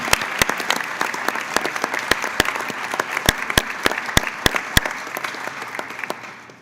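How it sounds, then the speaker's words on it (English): Applause breaks out in a congressional committee hearing room after a bill is reported favorably, with a crowd's clapping and several sharp, close hand claps standing out before it tapers off at the end. "You can clap."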